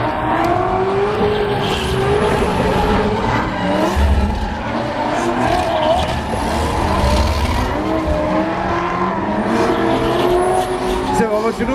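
A Falken Drift Team car drifts at the 2013 International Motor Show in Luxembourg, its revving engine and squealing tyres rising and falling in repeated loud sweeps, with a crowd and an announcer talking underneath.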